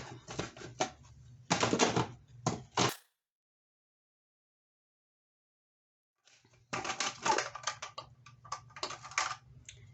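A knife dices half an onion on a cutting board, giving quick bursts of close, crisp chopping taps, then a few seconds of silence before another run of rapid cuts.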